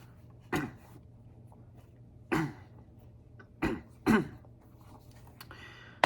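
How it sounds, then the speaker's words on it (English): Several short throat-clearing bursts spaced a second or two apart, close and moderately loud, with a faint steady hum underneath. "Clear my throat there. I had a little frog in my throat,"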